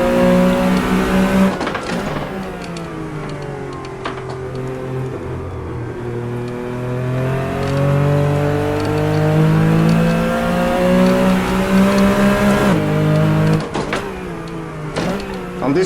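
A Porsche 911 Carrera RSR 3.0 in the Assetto Corsa racing game revs hard through the gears, its engine note climbing and dropping with sharp shifts, loud and continuous.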